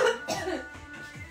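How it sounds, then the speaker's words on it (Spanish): A woman gives a couple of close, harsh coughs with a bit of throat clearing, heard alone without speech. "Aprovecha para toser."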